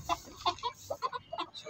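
Female chickens (hens) cluck softly nearby in a quick, uneven series of short notes.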